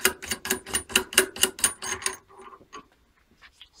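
A rifle barrel nut is turned off by hand with a tool, giving a rapid run of about ten sharp ratcheting clicks, then a few scattered quieter metallic ticks before falling silent.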